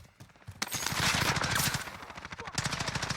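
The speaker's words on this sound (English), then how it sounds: "we got some shots to the left" Automatic gunfire in the video game Call of Duty Warzone, rapid close bursts of shots rattling in quick succession with a brief louder volley in the middle.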